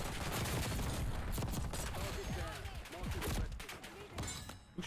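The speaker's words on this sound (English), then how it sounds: "Who's shooting me?" Rapid bursts of gunfire in the video game Call of Duty Warzone on Rebirth Island, a dense, loud barrage of overlapping shots and impacts filling the stretch, with a voice talking over it.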